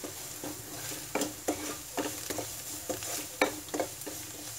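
Onion and curry leaves frying in a pan, a soft steady sizzle broken by repeated scraping stirs and light clinks of a spoon against the pan, all close by.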